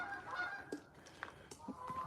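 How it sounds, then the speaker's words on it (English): Geese honk outdoors at dusk, with several loud, separate calls rising over a steady background hum and sounding at irregular intervals. "Listen to the geese."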